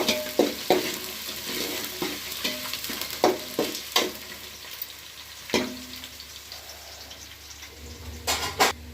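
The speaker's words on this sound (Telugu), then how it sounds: "ఆనియన్స్ ఇంకొకసారి బాగా కలిపేసుకుందాం కాస్త బాగా గోల్డెన్ కలర్ వచ్చే వరకు మనం వేయించుకోవాలి" Onions stirred and fried toward golden in a pan for a green chilli chicken dish, a low sizzle punctuated by repeated scraping, clanking strokes of a spoon against the pan.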